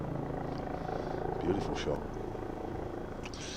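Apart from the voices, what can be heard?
helicopter hovering overhead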